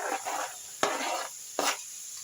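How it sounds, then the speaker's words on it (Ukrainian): A spicy vegetable stew with eggplant is stirred in a pan with light sizzling, giving three distinct scraping strokes over a faint background hiss, close and fairly quiet. "Все гарненько перемішую."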